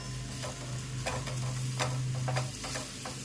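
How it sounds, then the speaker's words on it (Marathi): Finely chopped hummingbird tree flowers are stirred and sautéed in a turmeric masala in a pan: a steady close sizzle with repeated scraping stirs, no voices. "आणि परतून घ्यायचा आहे आपल्याला मसाला पूर्णपणे फुलांना कोट करून घ्यायचा आहे"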